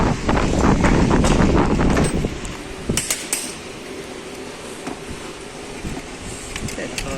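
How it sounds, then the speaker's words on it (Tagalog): Strong wind roars and buffets the microphone, loudest at first and then easing to a steadier rush, with a few sharp knocks and clatters. "Malakas ang hangin."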